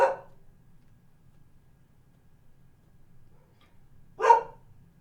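An old dog, about twelve years old, gives two short barks indoors, one at the start and a louder one about four seconds later, with quiet room tone between.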